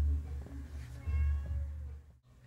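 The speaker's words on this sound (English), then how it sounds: "A cat at the door." A cat meows at a door, several close, loud calls across the moment with low background rumble.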